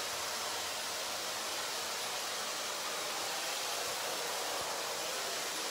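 A hair dryer blows steadily on curly hair during a layered bob haircut, a continuous close, loud airy rush with no break and no talking.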